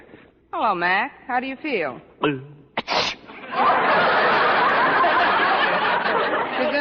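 Someone speaks in short phrases, then a sharp burst of breath like a sneeze, followed by a long hissing, rushing noise that fills the rest.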